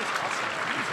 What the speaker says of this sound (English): Ladies and gentlemen, one final round of applause for Noah Vonleh.